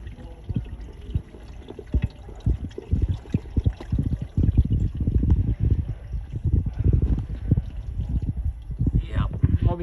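Water drains out of the clogged side drains of a Nissan Versa in irregular trickling, splashing bursts, fairly close, with people talking over it.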